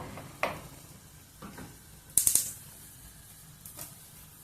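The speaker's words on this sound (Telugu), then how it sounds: "ఇంకా స్టవ్ బంద్ చేద్దాము" A gas stove knob is turned off with a quick cluster of sharp mechanical clicks, heard over the faint sizzle of tamarind frying in oil for an eggplant curry, with a few softer clatters around it.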